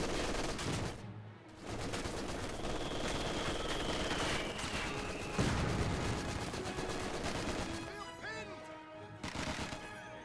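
Dense rattling machine-gun fire from a Vickers emplacement in Company of Heroes 2, a continuous stream of rapid shots with scattered impacts and crashes, layered among other battle sounds at moderate volume.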